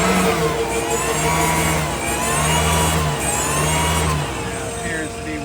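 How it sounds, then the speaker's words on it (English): A hydraulic generator runs on a 2016 Peterbilt 337 Maintainer 10000 crane service truck, giving a steady mid-pitched engine-like drone with shifting harmonic tones that hold throughout, heard close and loud alongside talking. "It's a hydraulic generator."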